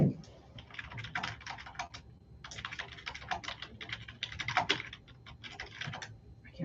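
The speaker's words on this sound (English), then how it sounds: "I can't type on this keyboard." Someone types on an unfamiliar computer keyboard during an annual meeting, close, rapid bursts of clattering keystrokes with brief pauses between runs, over a faint room hum and no talk.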